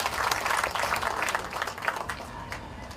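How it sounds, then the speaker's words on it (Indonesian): A crowd applauds continuously, a dense patter of many hands clapping that gradually fades slightly, heard at a moderate distance. "Kita beri tepuk tangan"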